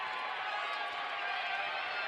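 A basketball crowd at the Shield Center roars and cheers in a steady, dense wash of noise from a packed arena during a North Dakota versus North Dakota State men's college game.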